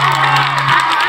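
A brief, loud swell of audience cheering and crowd noise fills a stage program, with a steady low hum running underneath.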